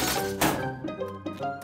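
A glass jam jar shatters in a children's cartoon, a sharp crash followed by several tinkling bright fragments scattering over a short span, with faint background music.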